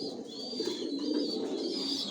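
Grizzle racer pigeons in a loft coo continuously at close range, with soft overlapping throaty calls and no talk.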